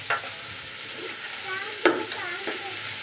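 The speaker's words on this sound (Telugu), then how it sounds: "మా ఆవిడ చూడండి ఉల్లిపాయలు ఫ్రై చేస్తున్నా పక్కనే." Onions fry in a pan at home with a soft sizzle, while a utensil stirs and scrapes against the metal in a few distinct knocks.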